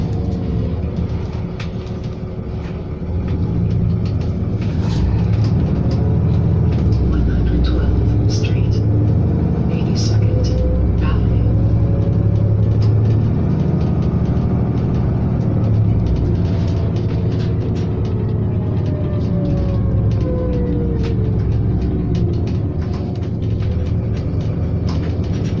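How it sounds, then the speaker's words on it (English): Riding aboard a 2018 ETS Grande Vicinity city bus on route 318 in Edmonton, Alberta: a continuous loud engine and road rumble with rattles fills the cabin, with a voice speaking briefly over it. "So enjoy the bus ride."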